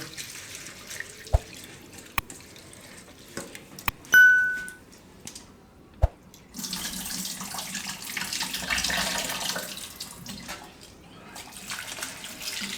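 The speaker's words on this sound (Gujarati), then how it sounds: "તો પહેલાં આપણે આ પૌવા છે એને ધોવાના છે તો એક બે પાણી એને ધોઈ નાખશું આપણે" Water pours and splashes in a basin as flattened rice is rinsed, after a few sharp taps and a brief ding, the sloshing continuing steadily to the end.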